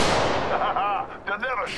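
Gunfire from a shooter video game, a few sharp reports at the start followed by a decaying ring, with game voice lines over it.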